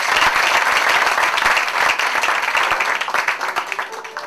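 A church congregation clapping together during a Pentecost sermon, dense and loud, continuous applause filling the whole stretch and tapering slightly toward the end.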